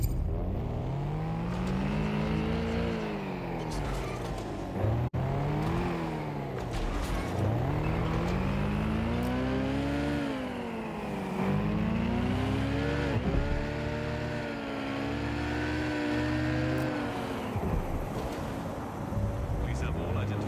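A car cruising on auto drive in the Watch Dogs 2 video game, its engine note rising and falling in repeated swells of acceleration, steady and close, with game dialogue and voices heard over it.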